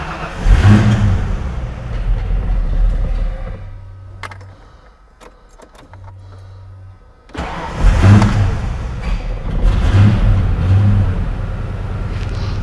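A Ford Mustang Foxbody engine, started cold, gives two short starter whirs amid quieter moments, then catches and runs loud and uneven with a rough, lumpy idle and occasional surges.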